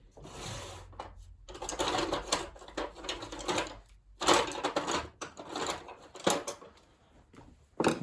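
Little screws being worked loose from a Dell Inspiron laptop, with clustered clicking, scraping and rattling bursts separated by brief pauses, close and moderately loud, with no speech.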